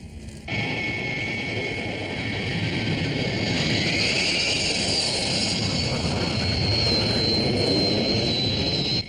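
An aircraft's jet engine roars steadily and loudly as it banks on final approach with flaps down, a high whine rising over broad rumble and holding close for the whole stretch.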